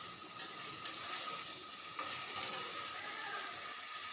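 Masala sautés in a pan for a vegetarian pointed gourd and Gobindobhog rice dish, giving a continuous close sizzle broken by a few sharp stirring clicks.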